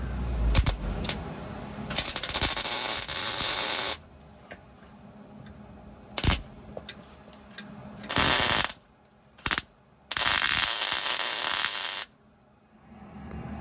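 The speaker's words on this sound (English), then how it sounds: "I'm gonna weld this bracket 90 degrees to this transmission mount here" Bursts of arc welding as a bracket is joined at a right angle to the transmission mount of a 1952 GMC truck, several loud crackling runs of a second or two each, separated by quiet pauses.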